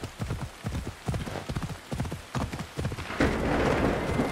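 Unicorn mount's hooves clip-clopping in a steady rhythm in Assassin's Creed Odyssey, with a rainy, stormy ambience swelling up underneath toward the end.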